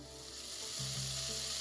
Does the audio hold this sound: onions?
yes